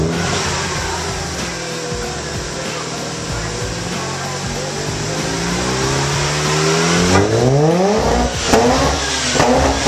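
A turbocharged car engine, good for around 400 horsepower, revs hard through a run, climbing in pitch through the gears with a loud, rising roar, faint voices underneath.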